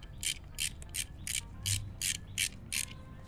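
Ratchet tightening the engine case cover bolts on a Svartpilen 401 motorcycle fitted with T-Rex Racing covers: eight crisp, evenly spaced bursts of rapid clicking, close up and alone, with short pauses between them.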